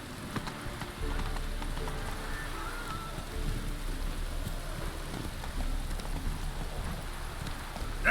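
The horse Roach trots in The Witcher 3, hooves clip-clopping steadily over rain pattering on the ground.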